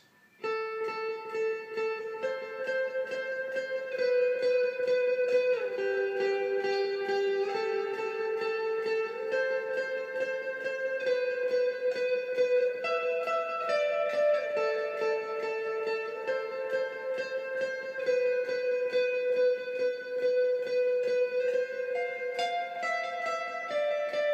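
Sustained electric guitar melody washed in echoing delay and lush reverb, notes blending into a continuous shimmering wall of sound with no talking.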